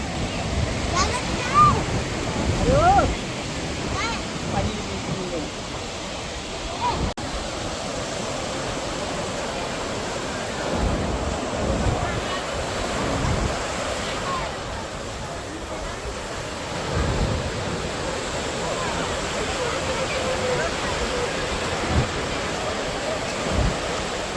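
Sea waves roll onto a beach in Kerala as a broad, steady roar with soft surges breaking every few seconds, and wind noise and occasional voices mixed in.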